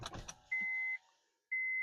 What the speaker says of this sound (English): You want to open the window?